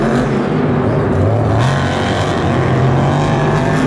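Monster trucks race at a Monster Jam event in Houston, their loud, steady engine roar filling the arena with rising and falling pitch as they accelerate.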